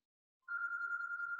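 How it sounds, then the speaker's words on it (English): A phone rings with a steady electronic tone that starts after a short silence and continues unbroken, loud and close, with no one talking. "that's my phone? That's my phone?"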